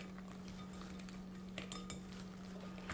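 Quiet scraping and clinking of a utensil against a bowl while raw prawns are mixed with two tablespoons of corn flour, a few soft taps over a steady low hum.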